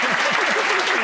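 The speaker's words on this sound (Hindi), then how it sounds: "जरा इनके लिए जोरदार तालियां" Club guests applaud a special guest, dense steady clapping filling the short moment with no break.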